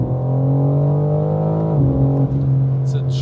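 A 2024 BMW M4 Competition at full throttle, its engine a loud, steady sustained drone that holds one pitch, dips briefly partway through as a gear changes, then carries on strongly to the end.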